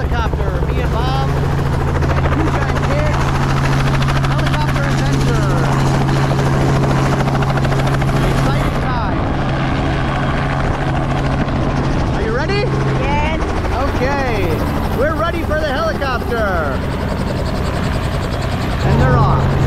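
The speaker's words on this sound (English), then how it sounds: "We're going on the helicopter." Steady, loud helicopter rotor and engine drone throughout, with people talking over it.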